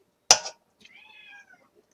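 A kitten meows once, close and clear, after a short sharp knock, a single drawn-out call with no talk.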